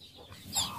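A pet chicken gives a short, close cluck, a single brief call standing alone.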